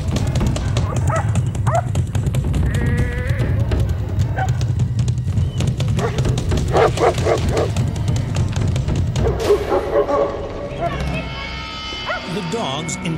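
Large guardian sheepdogs give alert barks at a brown bear hidden in dense bush, several bark bursts scattered over a steady low rumble of wind or movement, with a voice narrating over much of it.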